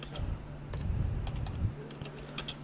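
Fingers tap keys on a computer keyboard in quick, light clicks close by, over a low steady background hum.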